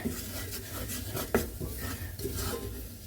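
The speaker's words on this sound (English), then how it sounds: "give everything a stir through" A spoon scrapes and clinks in a pan while stirring a curry powder mixture with carrots for a 1940s curried carrots recipe, giving soft continuous rubbing with one sharper knock midway, close and quiet.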